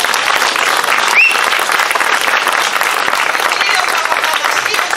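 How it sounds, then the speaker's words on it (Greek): An audience at a commemoration of the Battle of Granitsa breaks into loud, sustained applause from many hands, a dense clapping crowd that continues throughout. "ένα χειροκρότημα για το δάσκαλο"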